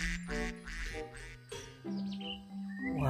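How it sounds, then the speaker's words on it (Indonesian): A duck quacks repeatedly in loud, harsh bursts at close range, with short gaps between calls and no talking over it. "Ini hewan bebek."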